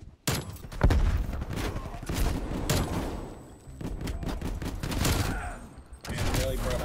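Shotgun fire in a first-person shooter game, with repeated loud, close blasts in irregular bursts over a busy background, with voices talking at times.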